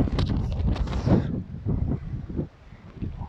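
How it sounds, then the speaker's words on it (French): Outdoor wind buffeting a microphone during a pilates exercise session, a loud rumbling gust that drops off partway through to lighter, uneven gusting. "J'espère que vous n'entendez pas trop le vent, parce qu'il y a un peu de vent aujourd'hui."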